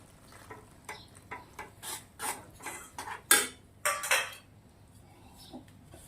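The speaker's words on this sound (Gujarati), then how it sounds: "એક બાઉલ લીધું છે, આપણે મેગી નીકાળી દઈશું." Cooked Maggi noodles with okra being served from a pan into a bowl: a series of close metallic scrapes and clinks of a utensil against the pan, uneven in rhythm, with a couple of louder knocks and no talking.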